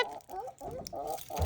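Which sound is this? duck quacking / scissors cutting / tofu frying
duck quacking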